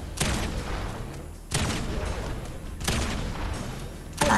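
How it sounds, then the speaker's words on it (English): Shotgun blasts in the Fortnite video game, three loud separate booms spaced about a second and a half apart with a fourth starting at the end, each trailing off quickly. "I like the new shotgun"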